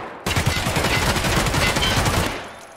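Dense, rapid automatic gunfire fills a round of Escape from Tarkov Arena, erupting abruptly and sustained as loud overlapping bursts before tapering off near the end.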